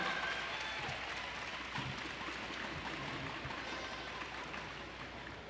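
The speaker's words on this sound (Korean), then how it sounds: "멋진 무대를 보여준 키무라 사야, 키무라 마야 선수에게 큰 박수 부탁드립니다" Audience applause rises for artistic swimmers Kimura Saya and Kimura Maya at a masters artistic swimming championship, a steady, dense clapping from a large crowd in an indoor pool venue, sustained throughout with slight fading at the end.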